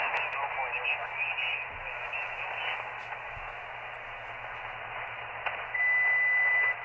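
Ham radio receiver on air with a steady band of static hiss and faint chatter, and a clear steady carrier tone appearing near the end as another station tunes up its transmitter.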